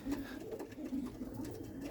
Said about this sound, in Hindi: टोटल 101 कबूतर हैं।